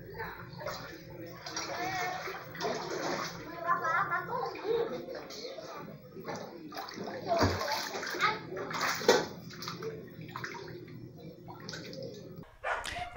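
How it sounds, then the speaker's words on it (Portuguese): Floodwater fills a house after heavy rain, with sloshing and splashing water as someone moves through flooded rooms, while a person talks over it and a dog barks now and then. "Dentro de casa está lotado de água."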